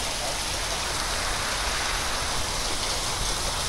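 A torrential downpour roars steadily alongside fast-rushing drain water, a loud, dense, unbroken wash of noise with no gaps or speech.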